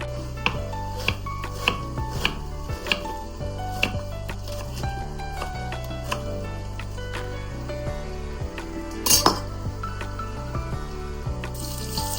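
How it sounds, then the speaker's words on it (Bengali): An onion being chopped with a knife, a series of fairly regular sharp cuts on a board repeating every half second or so over steady background music. "এখন হলো চুলায় আমি দিব পেঁয়াজ, যেটা আমার কাটা নেই, এখন আমার কাটতে হবে"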